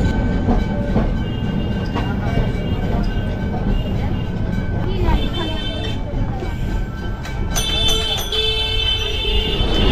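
A Kolkata tram rolls along its rails near the Shyambazar depot, a steady rumble with faint wheel clatter and tonal squeal throughout, with street noise and people talking around it.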